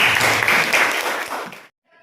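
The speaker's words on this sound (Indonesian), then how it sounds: "Oke, tepuk tangan untuk kelompok A." Workshop participants applaud group A in a short, loud burst of clapping that fades and then cuts to silence, followed by a faint tone.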